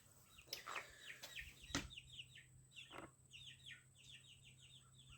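A flock of young chicks clucks and peeps in soft, repeated bursts while foraging around a yard, faint and fairly distant, with a low steady hum and a few sharp knocks early on.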